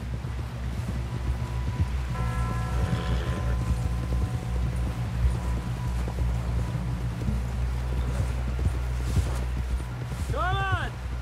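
Rhythmic hoofbeats of a galloping horse in Red Dead Redemption 2 under continuous low rumble, with people talking over it.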